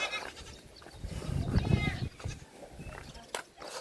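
Goats bleating in a village goat shed where a snake has got in, several cries rising over people talking nearby.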